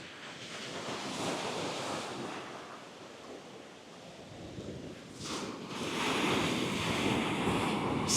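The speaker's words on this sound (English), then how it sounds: "Rolling seas." Rough sea surf rolling in during a hurricane, a steady roar of waves mixed with strong wind buffeting the microphone, swelling louder toward the end, with no voices.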